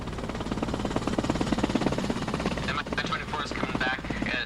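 Mi-24 attack helicopter in a military video game, a loud steady rotor thump close by, continuous throughout with voice chatter over it.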